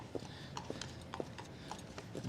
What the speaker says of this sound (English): As we have the horses pass on through